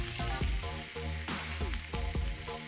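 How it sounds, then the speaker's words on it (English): Steak sears in a hot pan with a hissing sizzle, partly covered by prominent background music playing over it. "The key here is to have the pan hot, but not crazy hot, or your steak's gonna burn before it's cooked through."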